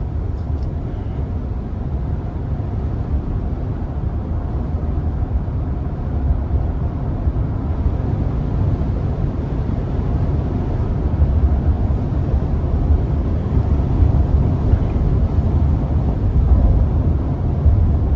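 A 2022 Chevrolet Express 2500 Limited X-SE conversion van drives along winding roads, its engine a steady low rumble with road noise that swells slightly over the second half.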